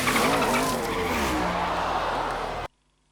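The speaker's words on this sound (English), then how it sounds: "One of the race cars drives through the oil and..." A race car skids and squeals through spilled motor oil in a pit lane during a film crash scene, a loud continuous screech with engine roar lasting over two seconds before cutting abruptly to silence.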